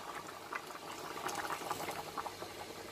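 Hot water streams steadily from a kettle over cooking cowboy stew, a continuous bubbling, splashing pour with small surges, close and moderately loud, no talking.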